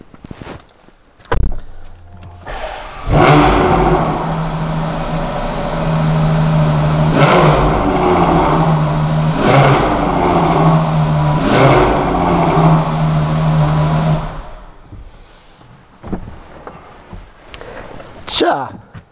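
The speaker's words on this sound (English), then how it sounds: "listen to what this car sounds like with a standard, complete stock exhaust system" A stock-exhaust Ferrari Purosangue with a 6.5-litre naturally aspirated V12 makes a cold start at about 4-5 degrees in an enclosed garage. After a click, it fires with a loud roar, blips through several revs and settles to a high idle before shutting off.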